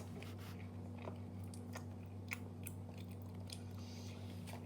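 Strawberry mochi is eaten close to the mic with soft, wet chewing and smacking in an irregular rhythm, fairly quiet over a steady low background hum, with no talking.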